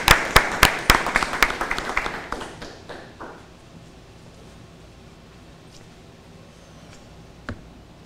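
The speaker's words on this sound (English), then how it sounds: "And a big round of applause for our Ocean Moon Group." A small audience claps for the Ocean Moon Group of student presenters at a science institute event. The applause starts loud and close, thins out and fades away after about three seconds, leaving a quiet room.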